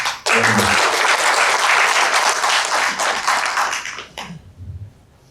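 An audience at a culture workshop bursts into loud, close applause that holds steady for about four seconds, then fades out into scattered claps and a faint low murmur.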